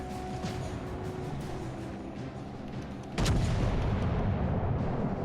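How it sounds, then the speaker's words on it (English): Warship guns fire at an aircraft carrier during a World of Warships: Legends naval battle, a loud continuous rumble of distant booms that swells into a heavier blast about midway and then stays dense. "Firing at the carrier."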